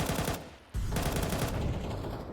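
Rapid AK rifle fire in Counter-Strike, a dense continuous burst that breaks off briefly and resumes loud and close, with no voices over it.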